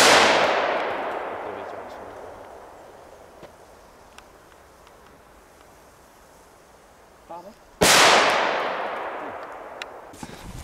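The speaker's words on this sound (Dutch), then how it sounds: "Geen slechte knallers hoor." Two firecracker bangs in Poland, each a sharp loud crack with a long decaying echo, the first at the start and the second about eight seconds later, with faint clicks and quiet voices in between.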